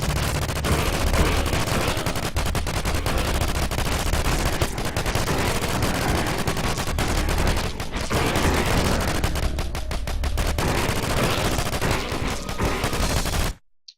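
Dense, continuous gunfire from the video game Brodefence SR rattles nonstop for nearly fourteen seconds, loud rapid bursts layered over each other before cutting off abruptly.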